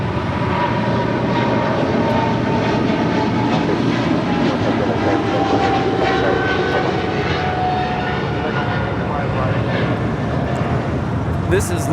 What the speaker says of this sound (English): This is LATAM Airlines Flight 8087, operated by LATAM Brazil, departing to Sao Paulo, Brazil, on a 777-300ER.